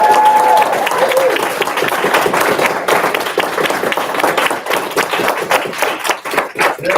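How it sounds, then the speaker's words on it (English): Steady audience applause at a literary festival, a crowd clapping continuously for about seven seconds, loud at first and thinning toward the end. "let's have a huge round of applause for our"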